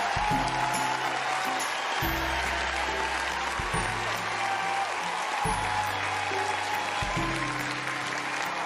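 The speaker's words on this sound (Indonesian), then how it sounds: "tepuk tangan dulu ya" Steady applause from a class during a cheerful mathematics lesson, continuous and fairly loud throughout, with low electronic tones or music thudding underneath.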